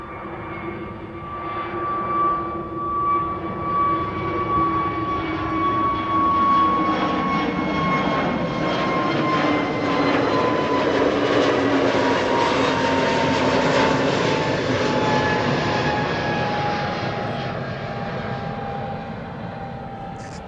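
A CRJ regional jet departs Amsterdam Schiphol, its engine roar building and swelling loudly with a clear whine that slides slowly downward as it passes, then easing off toward the end.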